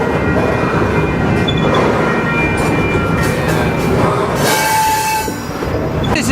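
A freight train creeps through Kirkwood, Missouri, toward St. Louis, heard close up from on board: a loud, continuous rumble of wheels on rails with squealing metal tones.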